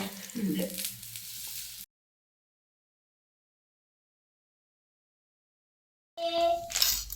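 Methi paratha fries in a pan with a short burst of close sizzling, then a long stretch of silence, followed by a brief, brighter return of sound.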